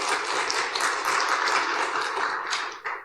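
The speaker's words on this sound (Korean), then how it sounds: "가위 박수 한번 드리겠습니다." A church congregation at a Thanksgiving Sunday service does a scissor clap together. Dense, loud clapping from many hands runs steadily for about three seconds, ending in a few scattered claps.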